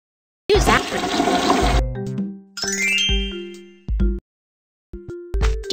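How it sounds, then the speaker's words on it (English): A cartoon toilet flushes in a loud whooshing rush, followed by bright ding and clang chimes and short jingly tones typical of an animated children's show, with no speech. "Flush the toilet after you use after."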